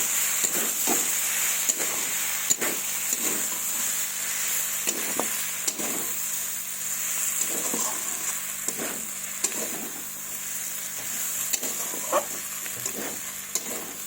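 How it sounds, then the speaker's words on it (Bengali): Winter vegetables fry with spices in a pan, giving a constant hissing sizzle broken by regular sharp taps and scrapes from a spatula stirring every second or so. No voices. "দারুণ হচ্ছে বন্ধুরা, খুব সুন্দর ভাজা হচ্ছে।"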